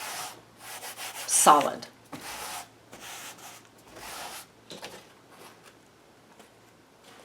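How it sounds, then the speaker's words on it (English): A paper towel is pressed and rubbed over wet purple paint on paper, giving soft papery rustles and dabs with one louder scuff, close by, and a brief spoken word. "I'm going to take a paper towel and just absorb a little bit of that purple"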